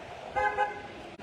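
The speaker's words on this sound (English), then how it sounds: "That truck was honking at me." A brief, short horn honk sounds once over steady road and engine noise, moderately distant.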